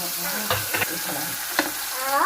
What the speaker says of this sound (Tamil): இப்போ பூண்டு வெங்காயமும் போடுறேன். நல்லா வதக்கணும்.